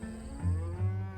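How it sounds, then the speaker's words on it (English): A cow on a ranch lets out two low moos in quick succession, close and clear against quiet surroundings. "home to hundreds of thousands of cows"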